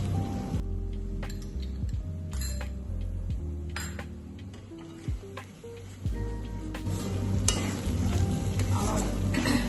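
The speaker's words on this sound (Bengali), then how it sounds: "এর মধ্যে গুঁড়ো মশলা দিয়ে দিচ্ছি, জিরে গুঁড়ো 1 চামচ আছে, আর 1 চামচ ধনে গুঁড়ো আছে।" Ground cumin and coriander frying in hot oil in a pan for a Bengali doi katla fish curry, a steady close sizzle with stirring scrapes and light clinks of a utensil against the pan.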